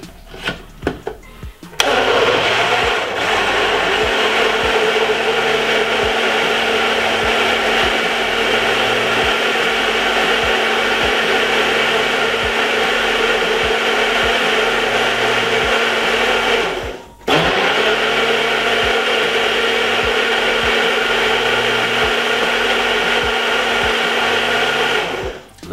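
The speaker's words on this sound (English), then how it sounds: "I will be blending this about 4 to 5 seconds." A blender whirs steadily for about twenty seconds while it blends a raspberry and ripe banana smoothie with milk. It starts after a few small clicks, cuts out briefly once, then runs loud and even again.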